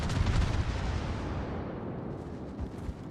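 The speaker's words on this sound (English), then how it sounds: "Both battleships firing at it." Heavy battleship guns boom in a World of Warships naval battle, a dense low rumble of artillery that fades gradually over a few seconds with no talk.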